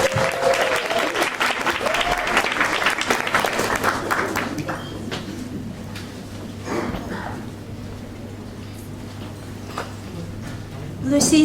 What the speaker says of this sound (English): please, a big round of applause and welcome,